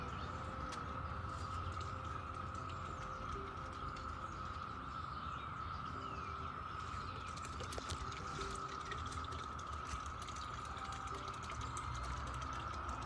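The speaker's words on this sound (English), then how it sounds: "It's cicadas." Cicadas buzz outdoors in a faint, steady, unbroken drone that continues without pause through the whole stretch.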